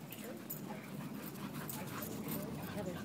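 Lively dogs play-fighting outdoors, with steady panting, whimpers and yips under ongoing human chatter throughout.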